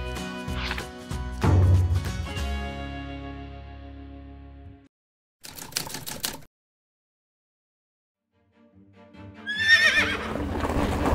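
A horse on a western ranch neighs loudly and close, with hoof clip-clops and scattered knocks, then a pause, a short burst of noise, silence, and another whinny rising near the end.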